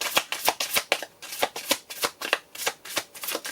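Tarot cards being shuffled by hand, a rapid series of crisp riffling bursts in a steady rhythm, close and clear with no talking.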